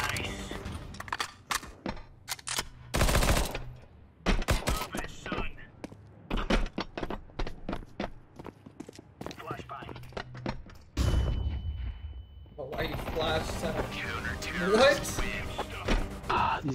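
Counter-Strike 2 Wingman match with scattered sharp gunshots and thuds, close single shots and short bursts over irregular intervals, with a voice talking at times.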